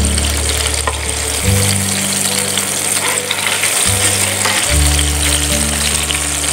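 Meatballs frying in a pan for a Malaysian-style creamy Swedish meatball dish, a steady loud sizzle running throughout with low humming tones underneath, no talking.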